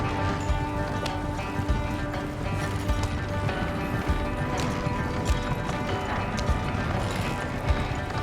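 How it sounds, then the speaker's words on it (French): Horse hooves galloping in the Red Dead video game, a steady run of thuds buried in a dense, continuous wash of game sound and music, moderately loud throughout. "Il y a un cheval devant, il y a un cheval devant."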